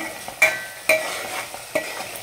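Spices frying in oil for a Telangana-style fish curry, a soft continuous sizzle punctuated by three distinct scraping stirs of a spoon against the pan, close-up and without any voices.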